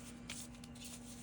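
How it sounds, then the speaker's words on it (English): A deck of paper cards being shuffled gives a brief, soft riffling flutter, close but quiet, with a steady faint hum underneath. "I'm just going to shuffle up these cards"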